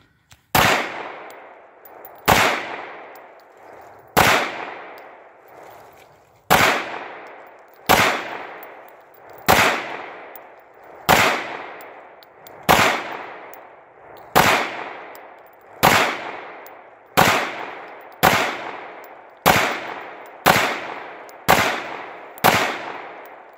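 Pistol shots at a shooting range, about fifteen loud, sharp single cracks fired at a steady pace of roughly one every second or two, each ringing out briefly, with no talk.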